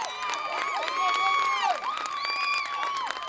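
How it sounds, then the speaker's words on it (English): Crowd at a wrestling match cheering and shouting after the winner is announced, a loud sustained roar with whistles and high voices rising and falling. "And the crowd here is loving it."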